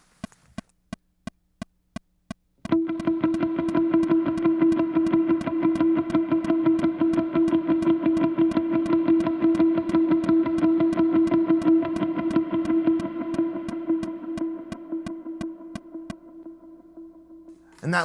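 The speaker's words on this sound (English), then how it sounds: "If you throw on some verb and delay, sounds like this." Electric guitar chugs steady palm-muted eighth notes drenched in reverb and delay, a sustained ringing tone over rhythmic muted picking, preceded by a few isolated plucks and fading into a lingering tail.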